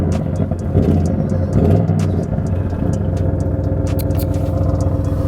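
An Audi RS6 engine rumbles close by with a deep, full exhaust note, holding a steady throaty idle-to-rev drone, with some clattering and rattling ticks layered over the low growl.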